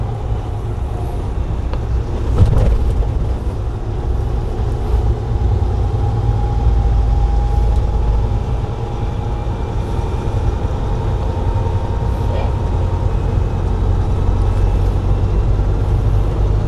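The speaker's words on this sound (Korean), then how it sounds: "엔진이 점점 시끄러지는 게 느껴지죠" A car engine held in gear while driving, a steady low hum that rises slowly in loudness, with light wind noise and brief knocks over it and no speech.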